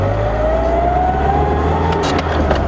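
A Nissan S13 with new exhaust headers drives along, its engine droning steadily and loudly from inside the car, with a rising whine as it pulls and a few faint clicks near the end.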